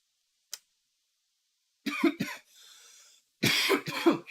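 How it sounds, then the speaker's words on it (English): A person coughs in a short burst, with a faint click first, then a rough throaty cough, a pause with low hissing, and a second louder fit of coughing. "Thought I was going to get away without coughing."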